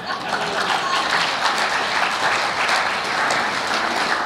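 An audience applauds at a veterans association talk by an Olympic sprinter, a steady wash of many hands clapping that holds evenly for the whole stretch.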